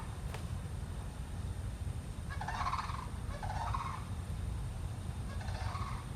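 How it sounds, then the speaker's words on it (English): A bird with a sick, goose-like honking call passes overhead, giving three or four hoarse, gobbling calls in a row over a low steady background hum, moderately faint. "Some sort of bird that sounded like a sick goose was just flying by"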